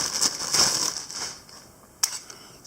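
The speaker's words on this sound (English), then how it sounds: "Just take her out of the plastic bag." Plastic bag crinkles and rustles as a Sig Sauer Legion P226 pistol is pulled out of its packaging, with a soft crunchy rustle up close, a quiet pause and one sharp crinkle near the end.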